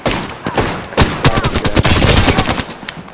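Rapid bursts of gunfire in the battle royale game Apex Legends, with sharp, loud shots and short volleys packed closely together over a few seconds, heard alone with no talk.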